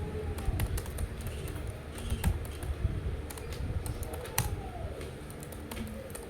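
Quick keystrokes on a computer keyboard, irregular bursts of clicks with a few sharper taps, fairly close and moderately quiet, no talking.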